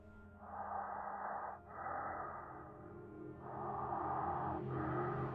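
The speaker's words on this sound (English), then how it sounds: "that's when I heard it. Breathing." Breathing as a sound effect for a spooky story, slow drawn breaths in two long pairs with a brief catch between them, close and hushed over a low background hum.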